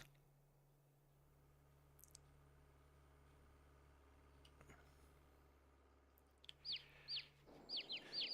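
Chickens on a farm in the Farming Simulator video game cluck in a few short, close bursts near the end, after a long stretch of quiet low hum.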